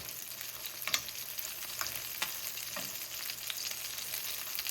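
A salmon fillet sizzles in a hot pan while being basted, a quiet continuous frying hiss with occasional soft spoon scrapes and spattering spikes, heard up close.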